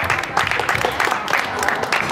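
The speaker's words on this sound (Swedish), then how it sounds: "Applåd till Kärby." Applause from a crowd at a youth football cup prize ceremony in Södertälje, a dense, steady patter of many hands through the whole short stretch, with voices mixed in.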